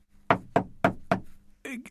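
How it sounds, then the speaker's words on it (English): Four evenly spaced, sharp knocks on a door, close and loud, followed by a brief voice. "There was a knock at the door."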